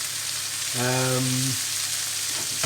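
Onions, courgettes and peppers sizzle steadily in a frying pan on a home kitchen stove, a continuous close hiss with a brief tonal squeak partway through.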